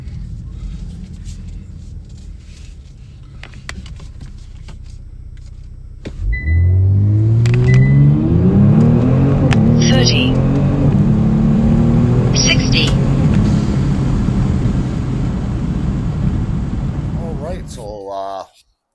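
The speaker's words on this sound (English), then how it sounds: "All right, let's try a paddle shift launch." Kia Stinger GT2 fitted with a LAP3 transmission control unit idles, then a paddle-shift launch sends the engine surging in a loud, rising roar through successive upshifts before backing off, heard from inside the cabin.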